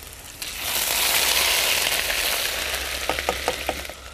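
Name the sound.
chilies and ginger sizzling in hot oil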